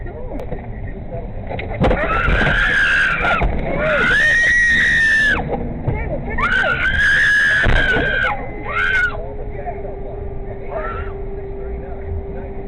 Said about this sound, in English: the woman's laughs soon turn into screams